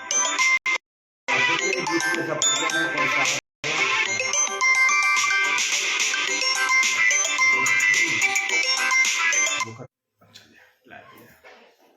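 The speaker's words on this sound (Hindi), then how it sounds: "बीच में एक फोन आ गया था" A bright electronic phone ringtone plays loudly and continuously for several seconds, briefly cutting out twice, then stops, leaving faint sounds.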